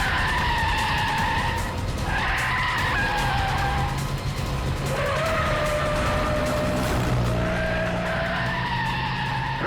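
A car skids hard, its tires squealing in long wavering screeches over a loud engine roar that runs the whole time, close and intense, during a tense police-drama chase.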